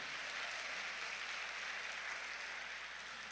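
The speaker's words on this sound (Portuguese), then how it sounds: "dê um aplauso ao Senhor" Church congregation clapping together during a sermon, a steady, soft wash of applause heard from a distance without a break.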